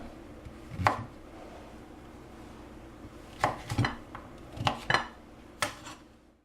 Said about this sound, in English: I'm just going to take each piece and cut it up into bite-sized chunks